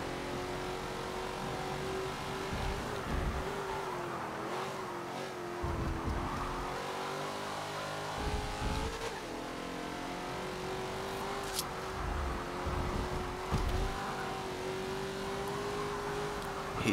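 Race cars from Forza Motorsport 7, including nostalgic drag racers, drone steadily at high revs with shifting engine pitch and occasional gear changes, close and continuous during a lap.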